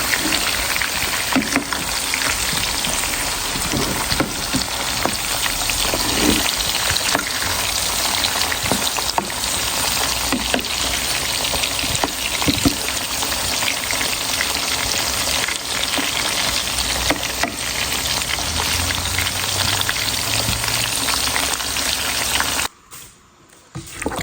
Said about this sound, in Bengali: এখানে আলুগুলো ভাইজা নিতেছি